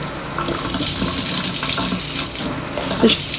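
A water jet spraying from an adjustable hose nozzle, a loud continuous rushing hiss that stays steady throughout with slight surges.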